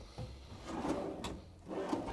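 A wooden built-in drawer in a 2023 American Tradition 37S motorhome slides open or shut with a soft rubbing scrape, quiet and close, heard alone without talk.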